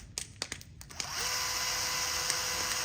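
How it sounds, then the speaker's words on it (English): A power drill pre-drills screw holes in a wooden straight-edge jig; a few scattered knocks and handling taps come first, then the drill spins up into a steady, close whir that holds to the end. "we're going to pre-drill."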